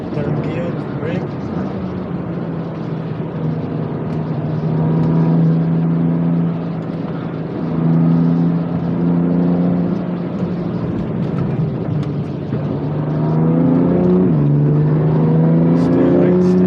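A BMW M2 Competition on a Nürburgring lap holds a loud, close engine note that rises and falls through the gears, shifting from one note to another at each change, while an instructor calls out directions over it.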